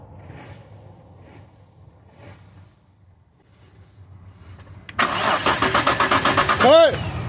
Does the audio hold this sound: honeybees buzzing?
no